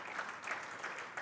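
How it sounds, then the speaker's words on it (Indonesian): A church congregation applauds during a Sunday afternoon service, a steady wash of many hands clapping together, fairly soft and distant, with no speech over it. "boleh sambut dengan tepuk tangan"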